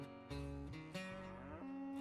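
A cow moos in the Railroads Online video game, a single drawn-out, tonal low call that rises and falls, loud and close with no other sounds.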